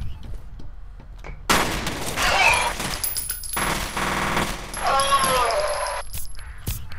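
Gunfire in the shooter game F.E.A.R. comes as rapid automatic bursts and sharp shots with metallic clinks, fairly loud and repeated over several seconds under ongoing game sounds.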